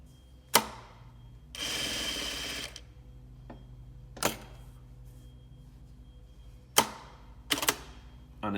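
A Juki DDL900A industrial lockstitch sewing machine running in short bursts: sharp clicks, a roughly one-second whirring sew, then several isolated clacks and a quick double tap, close and quiet between.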